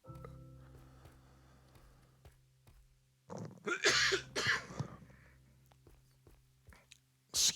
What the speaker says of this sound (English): Excuse all the coughing.